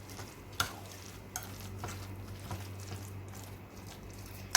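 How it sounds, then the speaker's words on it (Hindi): Lettuce leaves being tossed and mixed for a chicken mayonnaise sandwich give a soft, faint rustle and stirring, broken by a few light clicks and knocks, with no talking. "ये ऐड करने के बाद मैं इनको अच्छे से मिक्स कर लूँगी।"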